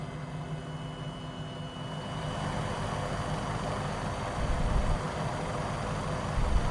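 Helicopter in Microsoft Flight Simulator 2020 lifting off: a steady low rotor and engine drone that thickens and grows slightly louder toward the end, with no talk.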